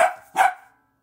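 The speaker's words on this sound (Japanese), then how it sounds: "誰かが誰かが帰ってきたので 吠えてます" A dog barks at someone arriving home: two sharp, loud barks close by, about a third of a second apart, then silence, with no talking.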